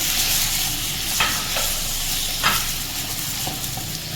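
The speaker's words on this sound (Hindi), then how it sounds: "जो मिन्स है वो ऐड कर देते हैं" Chicken mince fries and is stirred in a hot pan for bhindi keema, a loud, close sizzle with scraping utensil strokes every second or so and no talking.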